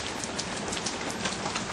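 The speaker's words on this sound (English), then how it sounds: "It's raining really hard." Heavy rain drumming steadily on surfaces outdoors during work on a 2015 Toyota Corolla's side window trim, a dense, continuous hiss with no talk over it.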